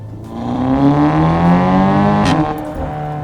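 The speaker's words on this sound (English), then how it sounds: "the sound of the DSG changes and that awesome note from the RS3 exhaust and this 4-cylinder engine" A tuned Audi S3 four-cylinder with a 4-inch decat downpipe and an RS3 exhaust pulls hard in second gear; its loud, close engine note climbs steadily, then a DSG gearshift brings a brief crackle and drop in pitch.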